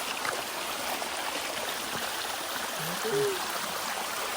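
Steady water trickling and flowing over rocks at Bayyaram waterfalls, a continuous close-up stream that stays even throughout, with a faint bird chirp near the end.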